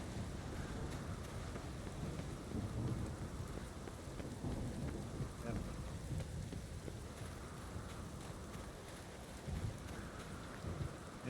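Steady heavy rain pours in a Witcher 3 thunderstorm, dense and constant, with low rumbling thunder rolling underneath throughout and no voices.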